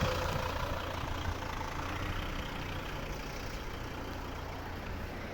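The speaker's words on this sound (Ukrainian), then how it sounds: "Вихлоп. Спортивний." A Volvo V60 with a Heico sport exhaust runs at a steady idle, a continuous deep, moderately loud engine rumble heard close and alone.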